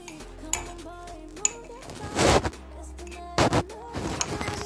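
Oreo cake batter is mixed with milk in a bowl, heard as faint clinks and taps followed by two short, louder bursts of scraping and stirring.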